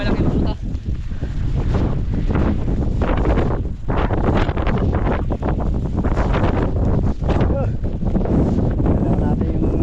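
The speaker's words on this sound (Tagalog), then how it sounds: "Grabe lakas ng amihan ngayon." Strong northeast monsoon wind buffets the microphone in loud, roaring gusts that barely let up, with rustling and a voice partly buried underneath.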